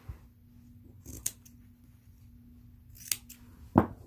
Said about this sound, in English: I'm going to cut a little bit longer than the snip.